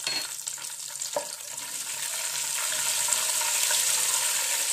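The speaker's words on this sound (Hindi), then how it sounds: "ऑयल हमारा गर्म हो चुका है, सबसे पहले हम इसमें डालेंगे ये कुछ खड़े मसाले" Whole cloves, green and black cardamom, black peppercorns and cumin seeds hit hot oil in a pan, with a faint crackle and a small clack early on, then a steady hiss of frying that grows fuller and louder.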